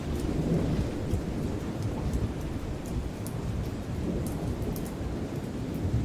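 Steady heavy rain with rolling thunder fills a stormy scene in the video game Outbrk, a dense continuous roar of downpour and low rumbles throughout, with no voices.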